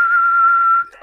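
A person whistles one steady, loud, clear tone for under a second into a ham radio microphone, then it cuts off abruptly.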